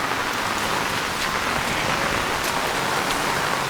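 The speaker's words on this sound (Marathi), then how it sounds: "इकडे पण पाणी भरलं खूप पाऊस लागतोय" Heavy monsoon rain pours down steadily on farmland in Konkan, a dense, loud hiss of drops hitting surfaces without pause and no voices.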